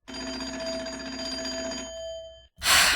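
Coin-operated phone on a porch in a Nancy Drew video game: a steady electric bell ring held for about two seconds, fading, then a brief silence before a second loud burst begins.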